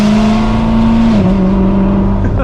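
A Chevrolet Corvette ZR1 with the top off, driving along: a steady, loud engine drone whose pitch drops briefly partway through, like a gear change, with no talking.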